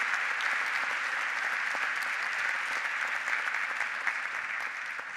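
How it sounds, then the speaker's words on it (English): A conference plenary audience gives a steady, even round of applause for a panel. The dense clapping holds throughout and thins slightly toward the end, with no talk over it. "Can we get a round of applause, please?"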